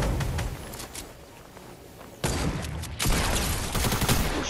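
Dense bursts of gunfire from an online shooter video game come in overlapping volleys, quieter at first and then louder and more intense after a couple of seconds, with no pause.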